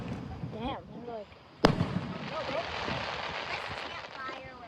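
At an Ocean Isle Beach fireworks show, one loud sharp bang rings out, followed by a steady crackle and hiss of bursting shells, with spectators chattering nearby before the blast.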